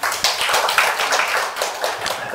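Applause at a Korean labour union debate as a speaker is welcomed, a short, dense burst of clapping from a small room audience, fairly close and loud.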